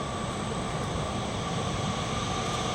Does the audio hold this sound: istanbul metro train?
yes